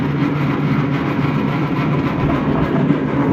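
A loud, steady mechanical roar of a Fosdick radial drill press motor running continuously, dense and unbroken with a faint rattling texture throughout.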